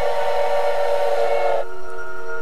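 Train whistle from the spider train in the video game Choo-Choo Charles, a loud sustained steam-style multi-tone blast that cuts off abruptly and leaves a lingering lower tone, with no talk.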